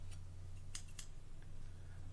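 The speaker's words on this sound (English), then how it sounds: "I've got hair cutting scissors" Two quick, crisp snips of scissors close by, with fainter clicks before and after over a low steady hum.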